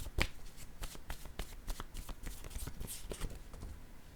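A deck of playing cards being handled close up, with a quick run of crisp riffling flicks and soft taps in an irregular rhythm, fairly quiet and without talk.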